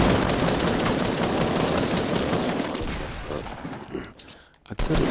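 Rapid automatic gunfire from the Fortnite video game rattles in a dense, loud burst for several seconds, then breaks off into scattered shots and quieter gaps.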